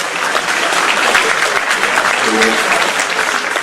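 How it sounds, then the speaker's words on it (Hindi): Loud applause fills an auditorium at a gold medal ceremony, a dense, continuous wash of clapping from a large audience. A voice speaks briefly under it. "ये सभागार में ताली बहुत जोर से बज रही है।"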